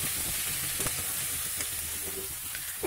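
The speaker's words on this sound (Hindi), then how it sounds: "दाल को भी थोड़ा भून रही हूँ" Dal and parwal (pointed gourd) frying together in a kadhai, with a steady sizzle and hiss and a few soft clicks of stirring, close and alone.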